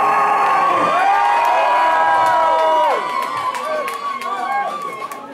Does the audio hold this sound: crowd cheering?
yes